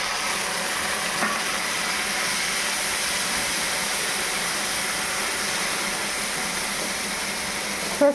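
Frying mustard paste in a wok hisses steadily after a little water is poured in, a continuous close sizzle with a faint knock near the end.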